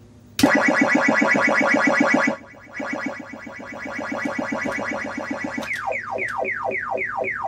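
Ms. Pac-Man arcade circuit board running its sound test, cycling through synthesized game tones: a loud buzzing warble, then a softer pulsing drone, ending in a series of quick descending chirps, with no voices.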